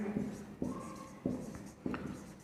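Pen strokes on paper during a class 10 trigonometry math lesson, short scratchy bursts in a loose rhythm, close and fairly quiet, with no one talking over them.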